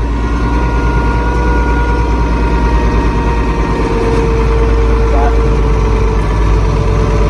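A tractor engine runs at a steady idle, a loud, close, low rumble with a constant drone that goes on without a break.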